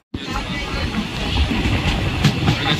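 A train rumbles steadily along the rails on the new route from Krishnanagar to Azimganj, a continuous broadband roar with occasional rhythmic clatter and faint background voices.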